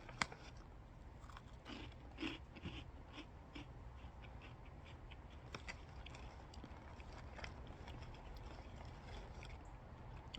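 Carolina Reaper cheese balls by Death Nuts being chewed, faint close crunching and munching that continues steadily against a low background hum.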